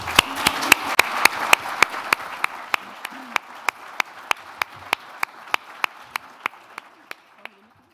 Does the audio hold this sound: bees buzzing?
no